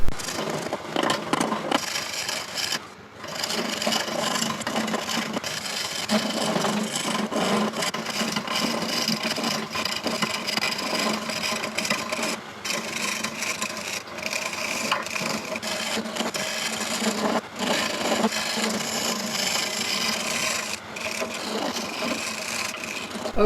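A cast acorn cap spinning on a lathe while being turned round, giving a steady, continuous scraping and rubbing cut with a brief pause near the start and another later, close and fairly loud with no talk.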